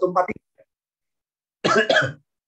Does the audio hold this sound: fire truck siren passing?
no